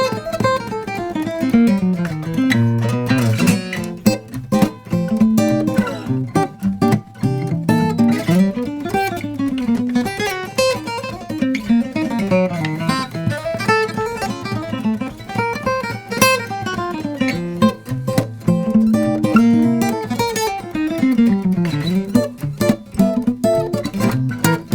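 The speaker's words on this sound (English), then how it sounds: "you can seamlessly go between flat picking and finger picking while just holding" Guitar played with a normal pick in hybrid style, mixing flat picking and finger picking, a busy, continuous stream of close, bright plucked notes and rolling bass lines over about twenty-five seconds, no voices.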